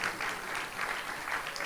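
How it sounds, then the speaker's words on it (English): Audience applause at an entrepreneurs conference and trade expo, a steady wash of many hands clapping, moderately loud and sustained throughout with no talk over it. "Please put your hands together for yourselves."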